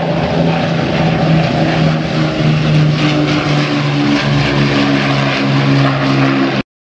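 A WWII bomber with multiple propeller engines and nose, mid-upper and tail turrets drones loudly at an air show, a steady throbbing engine roar with pulsing harmonics that holds throughout, then cuts off abruptly at the end.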